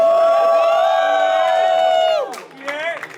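A live crowd at the Ruthless XIII top-four event cheers and whoops in a loud, sustained roar that swoops downward and breaks off after about two seconds, followed by scattered shouts.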